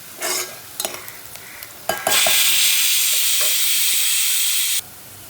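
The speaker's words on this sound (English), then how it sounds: "Now since the onion is getting cooked, it's quite cooked." Onion and whole cumin frying in a pan for dal makhani: scattered stirring scrapes at first, then a loud, steady sizzling hiss that starts suddenly and runs for almost three seconds before cutting off.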